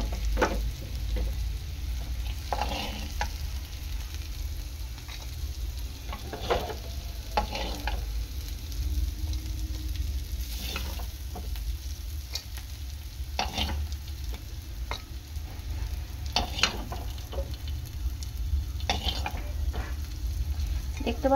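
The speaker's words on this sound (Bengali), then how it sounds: "ওদিকে উচ্ছেটা ভাজা হচ্ছে" Bitter gourd slices frying in hot oil in a home kitchen, a steady close sizzle broken by repeated scraping stirs of a spatula against the pan.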